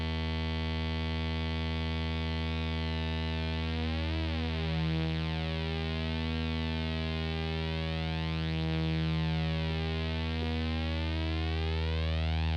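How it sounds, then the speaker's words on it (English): A Behringer 172 phaser delay module produces a steady analog flanger effect, a sustained synth tone with slowly sweeping comb-filter swirls rising and falling across the whole stretch, continuous and fairly quiet with no talking. "Let's do the flanger."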